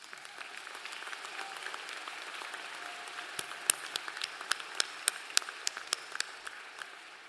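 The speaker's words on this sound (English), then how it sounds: "We can't applaud you too often" A university commencement audience applauds its graduates, a soft wash of many hands clapping at moderate distance, with sharper individual claps standing out near the end.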